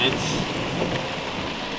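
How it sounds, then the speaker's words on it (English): Monsoon-season rain showers falling outdoors during a spring turkey hunting trip, an even, loud wash of rain noise throughout the short moment. "We have rain showers for monsoon season."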